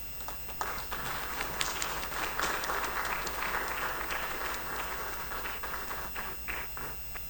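Audience applause at the opening ceremony of an executive dialogue greets a professor, a sustained, moderately loud patter of many hands with a few sharper individual claps standing out.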